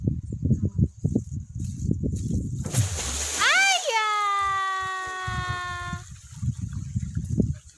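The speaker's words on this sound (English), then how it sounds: "You throw the water?" Water thrown out in a vegetable garden lands with a single loud splash, followed by a long, fading, pitched sweeping whistle; people talk before and after.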